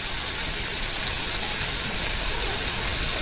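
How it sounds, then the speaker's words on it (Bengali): Cut potatoes frying in a pan with a little oil, a continuous close sizzle and hiss with faint crackles, steady throughout and without talk. "আলুটা খুব সুন্দর করে ভেজে নেবো একটু, যতক্ষণ একটু সিদ্ধ না হয়ে যাচ্ছে"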